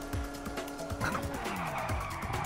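A car drifting in a GTA 5 race, with tires squealing and skidding in repeated sharp bursts over a steady engine roar.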